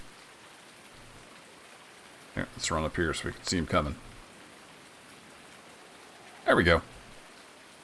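Steady rain falls in Farming Simulator 19 near a shop building, a constant soft hiss throughout, while someone talks over it in two stretches.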